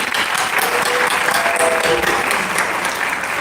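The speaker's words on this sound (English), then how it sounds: "give him a really big round of applause" Big round of applause from a seated audience at the CEI2026 opening ceremony, a sustained, full clatter of many hands clapping, loud and even from start to finish.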